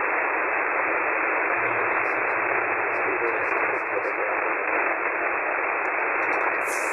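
Loud, steady radio static fills the sound, with a faint station signal barely audible beneath the hiss.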